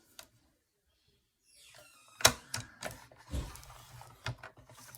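Paper being trimmed to size for a handmade album, giving a series of sharp clicks and snips close by against a quiet room.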